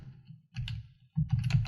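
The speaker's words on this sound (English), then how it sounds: "let's type in George" A computer keyboard clicks in two short bursts of typing, with a brief pause between them, close and fairly soft, and no voice.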